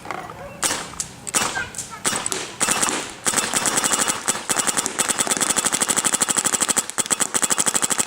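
A Dangerous Power G3 paintball marker fitted with an Empire Prophecy hopper fires outdoors, starting with a few spaced shots, then breaking into rapid, evenly paced bursts of loud, sharp pops close to the listener.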